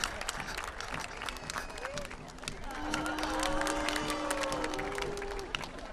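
Outdoors at a children's parade, a crowd keeps up a steady wash of clapping and chatter, with a whistle-like tone sliding through the middle and voices mixed in throughout.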